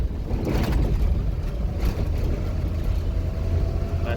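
Interior of a car with a manual gearbox cruising as it shifts into fourth gear, a steady loud low engine and road rumble with faint shifts in tone, no talking.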